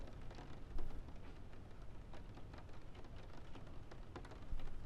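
Steady rain pours continuously, a dense hiss with scattered drops and patter, no voices, with a couple of slightly louder gusts.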